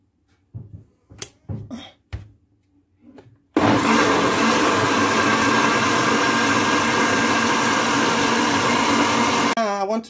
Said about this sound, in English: So I'm going to blend it now.